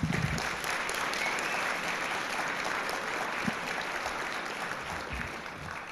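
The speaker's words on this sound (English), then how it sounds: "a big round of applause for them." Sustained audience applause for staff at a guide dog school graduation, a dense even wash of clapping holding steady for several seconds with no talk over it.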